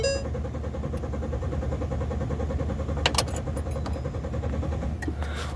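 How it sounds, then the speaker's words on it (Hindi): A Ford Expedition engine cranks steadily but fails to start, a continuous rhythmic starter whirr with a few metallic clicks partway through, loud and close throughout. "और आप देख पा रहे हो इतना लॉन्ग क्रैंकिंग के बाद भी ये स्टार्ट नहीं हो रहा है"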